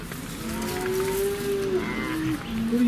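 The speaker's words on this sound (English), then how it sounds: "And I got cows in the way." Cattle moo on a mountain road, one long, loud, drawn-out low moo close by, rising and wavering over steady road and engine rumble.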